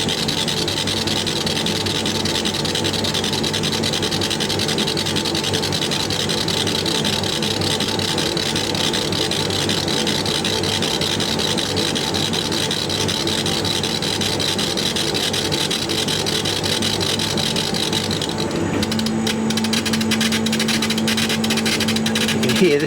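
A long, continuous noisy hiss from a laser tube etching glass, with a steady mechanical drone underneath, changing character near the end as a hum appears.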